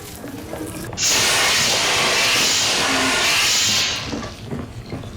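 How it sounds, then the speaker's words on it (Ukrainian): A fire extinguisher spraying out a fire in the video game Hello Neighbor 2: a loud, steady hiss of gas lasting about three seconds, starting abruptly and tapering off, with faint clatter before and after. "Бери вогнегасник та загаси вогонь."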